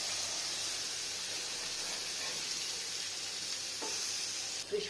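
Fish pieces fry in a thin layer of oil with a steady, close sizzle, briefly disturbed as they are flipped over near the end.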